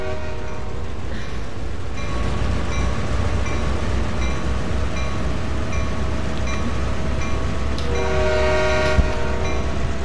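A GP38-2 diesel locomotive in Train Sim World revs up: a steady droning engine hum with tonal harmonics that rise and brighten near the end, a single sharp clank, no talking.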